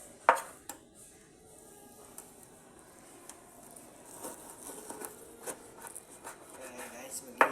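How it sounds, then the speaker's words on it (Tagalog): Pork being sliced for adobo on a kitchen cutting board, with a scattering of soft, close knife taps and scrapes at irregular intervals over quiet room noise and no talking. "Mag-iiwa muna ako"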